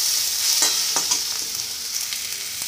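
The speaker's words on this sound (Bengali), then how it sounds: "এরপরে সব মশলাগুলো একসঙ্গে ভালো করে নাড়িয়ে দেবো।" Ground turmeric, cumin and coriander frying in a pan for mutton, a loud close sizzle with quick repeated stirring scrapes of a spatula, no voices.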